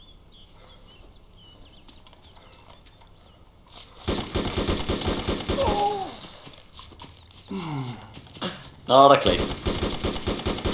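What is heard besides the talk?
machine gun fire in video game Arma 2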